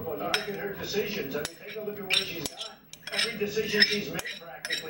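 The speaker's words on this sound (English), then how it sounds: "I'm gonna take and put my rice in there" Cooked rice is spooned into a bowl while a chili bowl is made, the metal spoon clinking and scraping against the dish in several close, uneven strokes.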